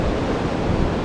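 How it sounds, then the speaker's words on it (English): Strong storm wind roars steadily as a dense, broadband rush buffeting the microphone, loud and close outdoors with trees swaying nearby. "Super windy."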